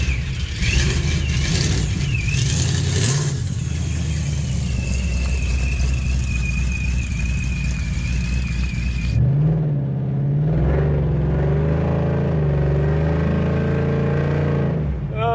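A supercharged Ford Mustang Cobra on dual Flowmaster exhausts drives and revs, its steady engine drone joined by a high blower whine, then rising and falling rev sweeps closer up in the second half.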